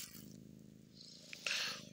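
A house cat purrs in a low, steady rhythmic rumble, close and quiet, with a brief brighter rustle near the end.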